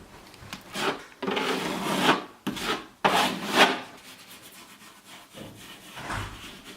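Fingers rub drywall patch compound into an orange peel texture, a close, dry scraping in repeated strokes that fade toward the end.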